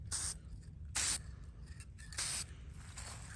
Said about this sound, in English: Spray the back of that. Make sure the ends are sprayed.